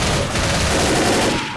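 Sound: gunfire in Left 4 Dead video game

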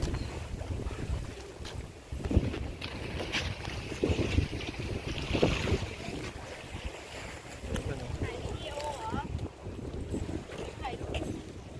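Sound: boat pier by the sea at Khao Ma Cho, wind and boats

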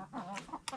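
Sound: chicken clucking

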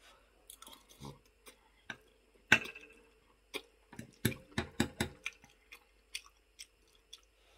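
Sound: chewing food while eating

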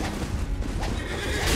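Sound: horse neighing in Elden Ring video game

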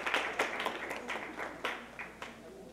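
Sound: seminar participants applauding

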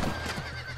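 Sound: horse neighing in video game Red Dead Redemption

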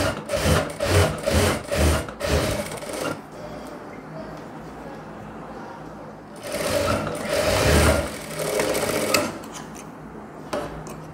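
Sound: sewing machine stitching blouse fabric

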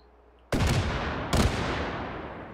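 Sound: underbarrel shotgun firing in VR video game Hot Dogs, Horseshoes & Hand Grenades

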